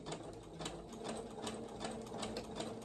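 A sewing machine runs a zigzag stitch down fabric while sewing a Butterick 5792 top. It gives a steady, close, continuous mechanical whir with a fast, even stitching rhythm and no talking.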